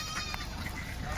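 Kathiawadi goats bleat inside a vehicle, a few calls rising over a steady low rumble and background noise, fairly close and continuous through the short stretch.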